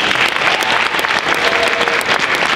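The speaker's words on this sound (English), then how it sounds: "give them a nice round of applause" Audience applause at a school holiday vocal music concert, honoring staff members, a steady dense clapping that stays loud and even throughout with no voices.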